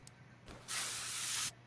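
In Car Mechanic Simulator 2021, penetrating spray is aimed at a lower control arm to frame bolt: a short puff, then a close, steady hiss lasting under a second.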